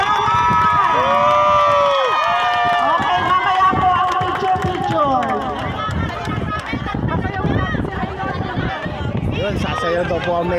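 A crowd at an outdoor Zumba event on the Calamba baywalk in Laguna cheers and shouts for the mayor, with loud, dense mixed voices and excited yelling filling the space, while a voice talks over the noise.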